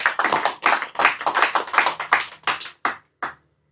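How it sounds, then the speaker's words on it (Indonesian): Rhythmic hand clapping at an Islamic study gathering, a series of sharp, fairly close claps in quick bursts that thin out into a few separate claps at the end. "Tepuk tangan."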